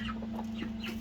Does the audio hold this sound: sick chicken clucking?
yes